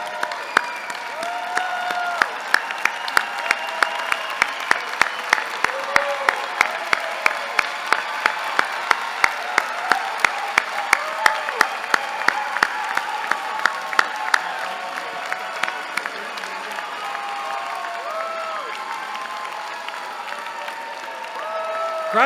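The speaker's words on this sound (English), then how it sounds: "turn to the audience, and give them a round of applause" A large crowd at a university commencement ceremony applauds steadily with dense, sustained clapping, punctuated by sharper claps early on and fading slightly toward the end, with faint voices mixed in.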